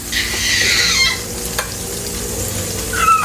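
About three tablespoons of bacon grease sizzle steadily in a frying pan, a close, bright hiss with a short tap partway through and the frying continuing to the end.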